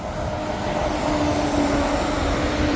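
Train on the Robin Hood line towards Mansfield rumbling past at a moderate distance, a continuous low roar with a faint steady tone, and no speech.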